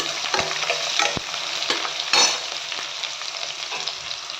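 Chopped onion and green chillies fry in a pan with a steady, crackling sizzle, broken by a few sharp scrapes and taps as a spoon stirs them, close and moderately loud with no voices.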